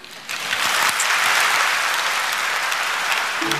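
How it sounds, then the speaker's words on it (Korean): A church congregation bursts into clapping during a worship service, a broad steady wash of applause rising after a quiet start and holding to the end, with no talk over it. "박수로 한번."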